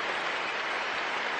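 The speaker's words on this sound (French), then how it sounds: "Les applaudissements de Twickenham pour accompagner la sortie de Mike Brown sur une civière dans ce stade de Twickenham" Sustained stadium crowd applause at Twickenham during a 2015 Six Nations England v Italy rugby match, a steady dense wash of clapping filling the whole stretch with no break.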